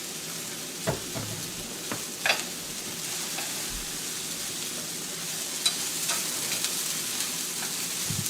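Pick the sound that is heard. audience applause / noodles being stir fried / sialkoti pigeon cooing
noodles being stir fried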